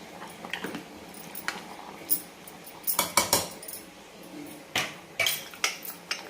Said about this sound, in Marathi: तर आता कुकरचं झाकण लावून घेऊ।